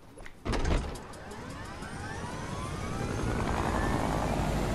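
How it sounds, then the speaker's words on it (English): A helicopter in a video game arena match starts up with a sudden thump, then a loud, steady rotor and engine whir that builds slightly and stays close, with no one talking. "Why are there choppers in arena?"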